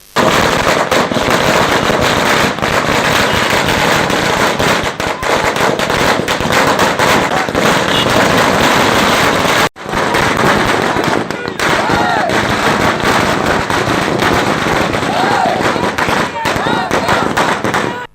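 Loud, dense strings of firecrackers crackle and pop without letup at a street celebration by party workers near a city traffic circle, with one momentary break partway through.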